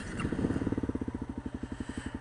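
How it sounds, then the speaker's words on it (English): A motorcycle engine fires up and settles into a quick, even, thumping idle, each pulse clear and close, with a slight clatter as it catches. "Fire up this bike."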